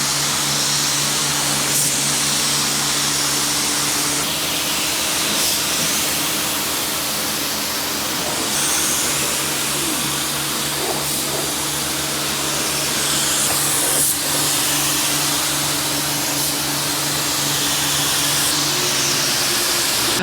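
A spray gun lays wet coats of sealer onto a car during a full paint job, producing a steady, loud, continuous hiss with a faint background hum throughout and no talking.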